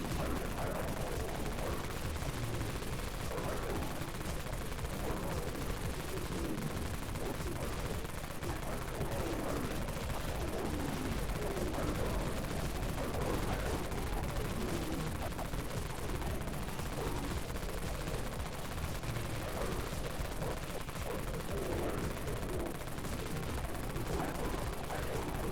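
Heavy Wraith Cannon gunfire in the video game Dead Frontier, a dense, continuous barrage of booming shots with no pauses, loud and close throughout.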